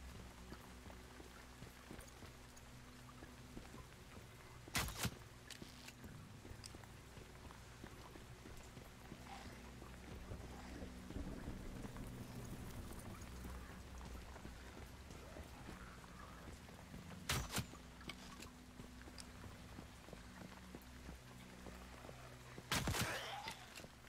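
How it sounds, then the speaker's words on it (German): Steady rain falling in the video game Once Human, a soft continuous patter under a low rumble, broken by a few sharp cracks or thumps spaced well apart, with no talking. "Dieser Regen, der hört sich auch richtig cool an,"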